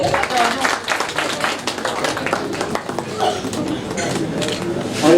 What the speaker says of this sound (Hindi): जोरदार तालियां तनुश्री मैम के लिए